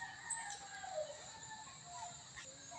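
Chickens cluck and a rooster crows faintly at a distance, several overlapping bird calls over a quiet outdoor background.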